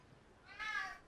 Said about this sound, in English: My cat with his impromptu howling.